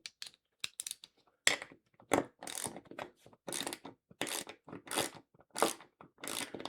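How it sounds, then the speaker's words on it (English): A cheap LIBRATON socket set ratchet wrench clicking in short rough bursts, close and crisp, with brief pauses between runs of ratcheting. "It's a little rough ratcheting."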